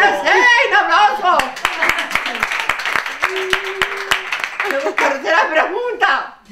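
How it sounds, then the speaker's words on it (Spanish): Audience clapping at a university quiz game event, a burst of sharp, evenly spaced claps mixed with cheering voices, with people talking and shouting over it before and after. "¡Aplauso!"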